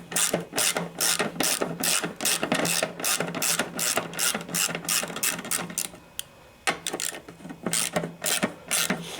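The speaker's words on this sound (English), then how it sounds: "You just have 2 bolts, and this is a 3/8 socket." A ratchet driving a 3/8 socket loosens the two gas tank bolts on a 1974 Sears Craftsman Rotospader rototiller with a Tecumseh engine, giving rapid, loud clicking bursts in steady rhythm with a short pause near the end.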